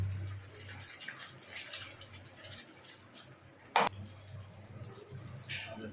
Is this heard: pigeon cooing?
no